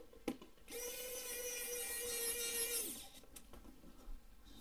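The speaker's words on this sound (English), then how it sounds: "So I will use the electric screwdriver." An electric screwdriver drives a screw into an ASUS RTX 4060 Dual graphics card, one close, steady motor whine lasting about two seconds, with small clicks and handling knocks before and after.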